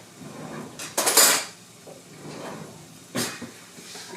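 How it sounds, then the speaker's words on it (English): A spoon stirs a summer salad in a bowl, making a few clattering knocks and scrapes against the dish with brief pauses between them, close and moderately loud, with no speech. "Give this a good stir"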